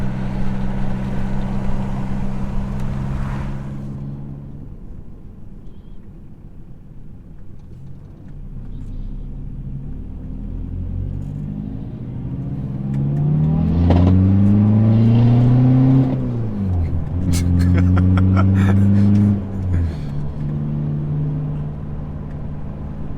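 A Mk2 car engine with individual throttle bodies rumbles at idle, then revs up loudly twice in rising and falling sweeps, with a deep throaty roar close by.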